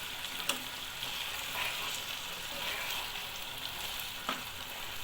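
Chicken frying lightly in a pan with a chilli-ginger-garlic paste, a steady, soft crackling sizzle with a few faint stirring scrapes, close and alone.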